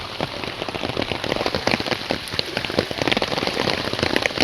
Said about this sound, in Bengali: কন্টিনিউয়াসলি বৃষ্টি হচ্ছে।